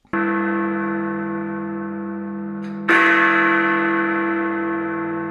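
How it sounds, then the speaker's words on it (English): An electronic bell chime rings out as a sustained, resonant tone, then a second, brighter strike lands about halfway through and rings on, loud and close with no talking. "That was the chime."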